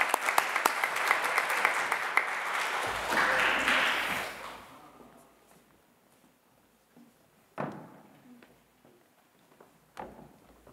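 A school assembly audience on Prairiewood High School's presentation day applauds the outgoing prefects, dense clapping that swells and then fades out after about four seconds, followed by quiet with a couple of isolated knocks or thuds.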